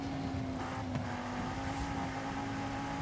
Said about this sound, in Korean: 내 오른쪽에 역시 엔진이 들리는 거 보니